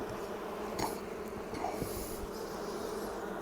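Honeybees buzz steadily in an open spring hive during an inspection, a continuous close drone with a few individual bees passing loudly near.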